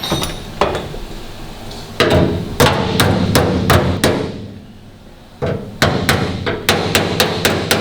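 Repeated hammer blows on metal body panels during restoration of a 1941 Kubelwagen, sharp loud clangs in irregular bursts with a short pause partway through.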